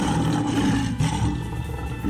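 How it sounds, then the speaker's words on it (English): Lion roar sound bite from a Yu-Gi-Oh card game, a dense, loud, sustained roaring that fills the whole stretch with no voices present. "Oh damn! So many roars, bro."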